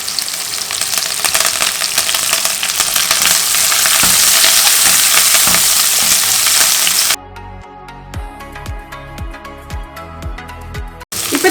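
Chopped onions with a pinch of salt and curry leaves frying in hot oil for pepper chicken, a loud steady sizzle for about seven seconds, then quieter clinks and stirring taps.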